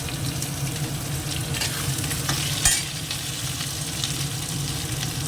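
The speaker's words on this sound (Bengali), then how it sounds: "আলুটা একটুখানি ভাজা হয়ে গেছে আলুটিকে দেখুন ডালটা দিয়ে দিচ্ছে" Potatoes and lentils fry in a pan while being stirred, a dense continuous sizzle with scraping spatula strokes and one sharper knock midway, close and steady without speech.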